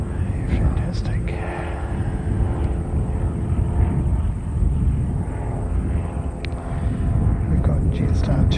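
A Jetstar airliner arriving from Auckland gives a steady, broad engine roar throughout, with a person speaking quietly over it.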